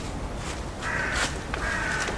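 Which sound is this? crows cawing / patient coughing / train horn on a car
crows cawing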